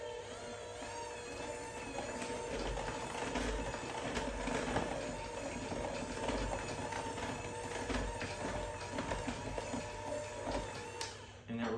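A batter of flour, salt, baking soda and buttermilk is mixed, probably with an electric mixer, giving a steady mechanical whir with rhythmic pulsing that runs continuously and cuts off near the end.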